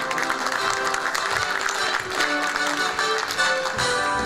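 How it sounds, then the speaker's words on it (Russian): Audience applause at a meeting with sports fans, a dense clapping wash blended with music or crowd noise throughout. "Ваши аплодисменты, дорогие друзья."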